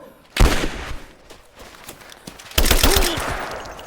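Gunfire rattles in Rise of the Tomb Raider: a loud burst opens the clip and another heavy volley follows near the end. Sporadic shots fall between the bursts, and a brief voice is faintly heard amid the firing.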